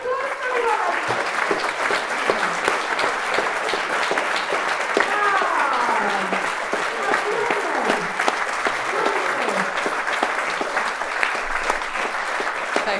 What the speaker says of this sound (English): please join me collectively to give everyone on the stage a huge, massive, heartfelt round of applause for Rob.